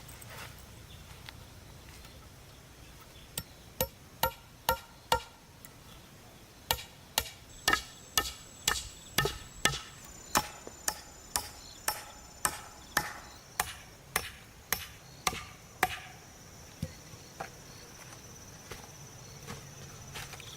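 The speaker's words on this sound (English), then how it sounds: "Nailing flexible, curved branches to the rigid posts transitions the foundation from a square to a circle" A hammer drives nails through flexible curved branches into rigid wooden posts for a sod dome shelter frame. Sharp, repeated outdoor strikes come in quick bursts, sometimes evenly spaced and sometimes clustered, against a quiet backdrop with faint insects.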